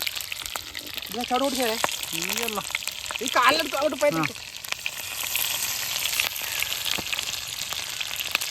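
Prawns frying in butter in a pan crackle and sizzle up close while voices talk over the first half, then the frying carries on alone at a steady level.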